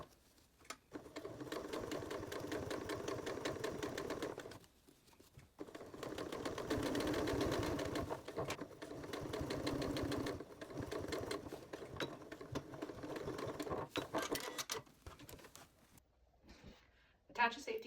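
A sewing machine stitches bias tape for a waterproof bowl cover with fast even mechanical whirring in several long bursts, separated by brief stops, close and clear, and a voice talks in between.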